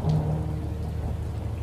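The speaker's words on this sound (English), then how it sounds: "followed by the drumming of rain" Steady drumming rain with low rumbling thunder, a dense continuous wash of drops that stays loud and even throughout, with no voices.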